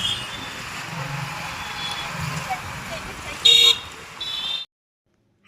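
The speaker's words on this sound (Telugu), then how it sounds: "చాలా ట్రాఫిక్ జామ్ ఉందంట హెవీ ట్రాఫిక్ ఇక్కడ చూడండి" Traffic jam on a road with vehicles crawling and horns tooting: a steady low traffic rumble, then a loud sustained honk and a second shorter horn blast near the end before the sound cuts to silence.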